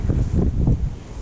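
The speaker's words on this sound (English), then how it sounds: "it is extremely windy today" Strong wind at a farm pond buffets the microphone in low, rumbling gusts that rise and fall over a brief moment, loud and close with no other sound.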